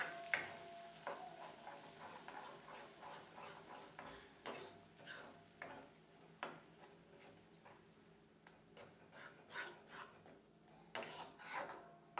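Masala sautéed in two spoons of hot oil in an iron pan for mutton curry: a soft, steady sizzle under repeated scraping strokes of a stirring spoon, close and moderately quiet, with no voices.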